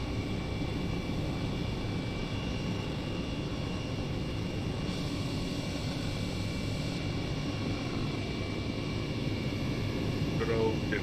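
Steady, loud broadband engine roar and rushing wind of an aircraft landing at Denver International in a flight simulator game, continuous and unchanging throughout, with no talk.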